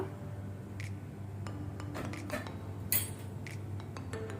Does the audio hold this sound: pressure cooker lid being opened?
yes